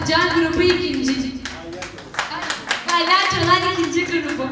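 Applause from an audience at a kindergarten Mother's Day show at a primary school, steady dense clapping throughout with a presenter's voice talking over it.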